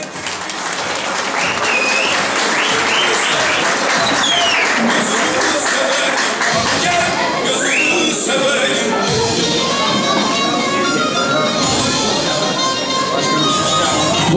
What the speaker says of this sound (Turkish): aday arkadaşlarımıza büyük bir alkış istiyoruz